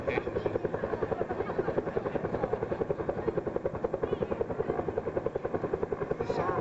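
A helicopter hovers close overhead at a 1993 airshow at NAWS China Lake during a search-and-rescue rappel demonstration. The rotor gives a loud, steady, rapid chopping pulse throughout, with no other sounds.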